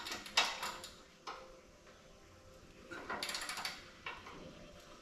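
A hand ratchet tightening bolts on a car's A-frames gives quiet, scattered clicking bursts with small metallic knocks between them, close by in a garage with no talking.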